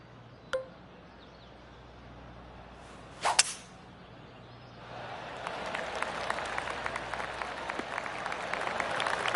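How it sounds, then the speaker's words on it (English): Golf claps from a gallery crowd in the video game PGA Tour 2K25: a couple of sharp isolated hits early, then soft, steady pattering applause rising in the second half, distant and fairly quiet. "Oh, I can hear the golf claps around the course."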